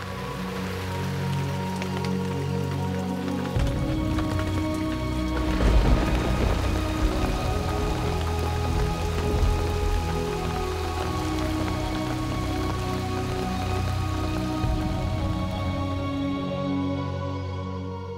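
Monsoon rain falls on the rice fields of Someshwar Valley in Kumaon, a soft, even wash that swells midway, layered under sustained musical tones.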